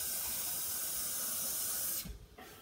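Water pours steadily from a cup or tap into a container for homemade bubble mix, a broad continuous hiss that runs for about two seconds before cutting off, followed by a faint trickle.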